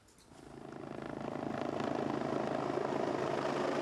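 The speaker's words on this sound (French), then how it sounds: "L'hélicoptère de Regadis arrive au centre de Wilderswil." A Rega rescue helicopter arrives at the centre of Wilderswil, its rotor and engine noise building steadily from faint to a loud, sustained pulsing drone.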